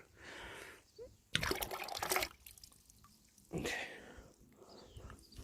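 Coolant drains and splashes out from the bottom of a Mini One during a flush, heard as bursts of rushing, gurgling liquid with drips and trickles between them, fairly close.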